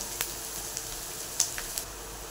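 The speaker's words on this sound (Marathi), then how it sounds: "असं आपण कांदा आणि शिमला घातलाय. हे 2 मिनिटभर चांगलं शिजून घेऊया." Chopped onion and capsicum sizzle softly in a pan for schezwan fried rice, a steady faint hiss broken by a few sharp crackles and pops.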